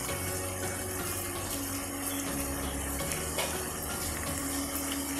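Water runs steadily into a pot of partly cooked mixed vegetables for an achari sabzi, a continuous close gush with faint kitchen hum beneath and no talking.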